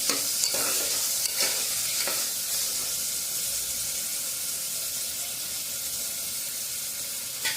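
An onion and tomato mixture stirred in a pan over a fairly high gas flame, with a steady sizzle and a few sharp scrapes of the spoon early on, close and alone.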